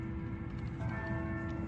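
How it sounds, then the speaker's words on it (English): Church bells ringing at a distance, a sustained steady tone with soft repeated strikes under a low background rumble. "Listen, the church bells."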